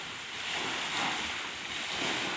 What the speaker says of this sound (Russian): Это вот минеральный источник, который бьет из-под земли 70 градусов